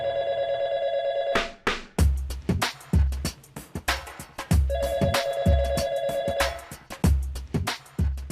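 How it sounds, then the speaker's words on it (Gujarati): Phone ringtone in a family comedy scene, repeating electronic ring bursts with a steady rhythm, cut through by sharp loud thumps and beats; no speech. "ફોનની રિંગ વાગે છે."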